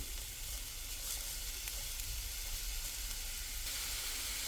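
Enoki mushrooms fry in a little hot oil, giving a steady, close, even sizzle that holds at one level with no voices.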